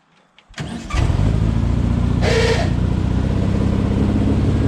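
A dune vehicle's engine cranks briefly and catches, then settles into a steady, loud, close running rumble that holds to the end with a short rise in revs partway through.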